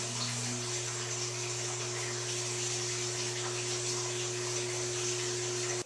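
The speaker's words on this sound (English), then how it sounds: "now when I trigger the well pump" A well pump runs continuously with a steady, even drone and strong low hum, constant and unbroken throughout with no talk over it.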